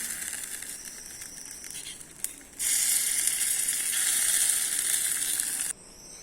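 Loud, steady sizzling of groundnut chutney hitting hot tempering oil with curry leaves starts abruptly, crackling and hissing continuously for a few seconds before cutting off; a quieter sizzle precedes it.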